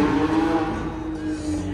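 A yellow manual Porsche 991.2 GT3 at a car show drives past loud and close, its high-revving flat engine giving a sharp, tonal howl that fades slightly over a brief moment.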